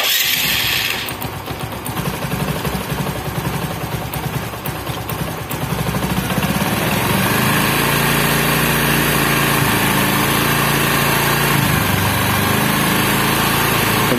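A motorcycle engine runs steadily after its RPM screw has been adjusted, giving a loud, continuous idling drone with no speech. Early on it sounds slightly rougher and higher, then it settles into a fuller, even hum.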